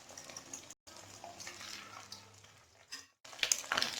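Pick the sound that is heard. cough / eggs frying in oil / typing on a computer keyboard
eggs frying in oil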